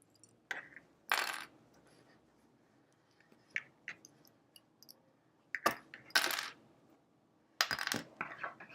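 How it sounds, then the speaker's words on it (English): Small metal-and-plastic wonder clips are pulled off quilt fabric and dropped one at a time, giving sharp, close clicks and clinks at irregular intervals with quiet gaps between. "Let's take the wonder clips off first."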